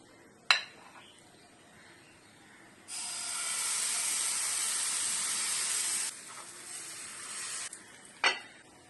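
A ladle of batter hits a hot oiled pan for patishapta pitha and gives a bright, steady hissing sizzle for about three seconds. A sharp clank comes before and after it.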